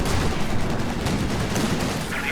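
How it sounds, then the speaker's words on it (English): Heavy railway artillery shells pound down in a Company of Heroes 2 battle, a dense rumbling barrage of overlapping blasts and gunfire that stays loud and continuous throughout. "whilst a huge railway artillery is raining down. Look at the size of those explosions."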